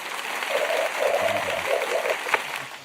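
An applause sound effect triggered from a button during a live college football reaction show, heard as steady, moderately loud clapping with faint voices underneath.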